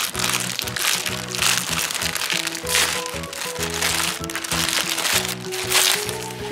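Sticker sheets crinkle and crackle close by as they are handled and peeled, in dense rustling bursts heard under a steady music track with tonal notes.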